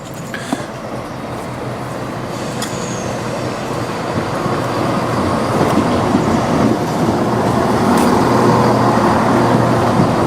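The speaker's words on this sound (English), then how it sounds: "Just leaving Melton Mowbray, heading for Nuneaton on this train." A two-car Cross Country passenger train pulling out of Melton Mowbray toward Nuneaton, a steady interior rumble with wheel clatter and squeals that builds as it gathers speed, with no talk.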